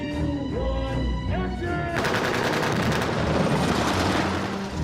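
Real explosions go off during a film stunt run on a set built like a rampart wall in Budapest, a loud sustained roar of blasts and crackling bursts following a shouted countdown.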